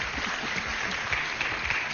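The studio audience of a French TV game show applauds a contestant, a continuous, even patter of many hands clapping at moderate volume with no talk over it.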